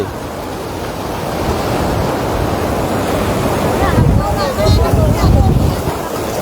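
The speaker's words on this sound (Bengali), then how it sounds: "ওরে বাবা কি জোরে ঢেউটা আসছে।" Powerful waves roll in and crash on the shore at Digha, a loud steady roar of surf with wind noise, while a voice speaks briefly toward the end.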